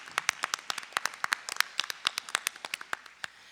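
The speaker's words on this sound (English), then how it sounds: "So please give them a round of applause" Applause rings out at a school board meeting, a short burst of sharp, irregular claps from a modest crowd, close and clear with no talking.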